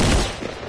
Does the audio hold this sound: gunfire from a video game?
yes